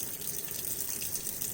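Steady running water from a faucet splashes into a sink while ski goggles are washed, a constant close hiss and gush with no voices.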